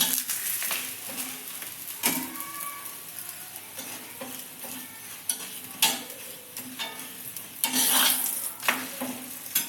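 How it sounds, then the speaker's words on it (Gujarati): Methi thepla fry in oil on a griddle with a soft continuous sizzle, broken by irregular scraping and tapping of a spatula against the pan, close and fairly quiet. "જુઓ તમે જોઈ શકો છો આપણે આવી રીતે તેલ નાખીને એને છોડવવાના છે"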